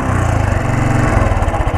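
A Royal Enfield Thunderbird X motorcycle engine with a problem noise runs close and loud, a steady idling thump with a rapid pulsing beat and no voices.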